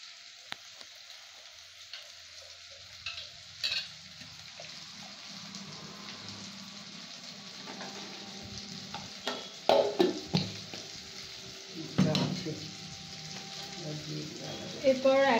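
Prawn curry stir-fried in a pan, a steady low sizzle with occasional louder scrapes and stirring strokes toward the end, fairly close, no talk.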